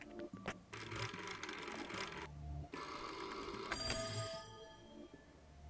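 A telephone in a video game rings in two long electronic bursts separated by a brief pause, fairly loud and with no talking over it.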